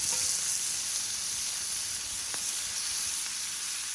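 Beer-boiled bratwurst, previously simmered in Sapporo lager, sizzling in a pan on a Gas One GS-2000 portable gas camp stove, heard as a close, steady hiss of frying with no talking.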